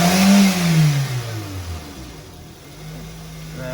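A Buick engine revs near and loud at the start, the pitch sweeping down as it settles toward a steadier idle-like hum for the rest.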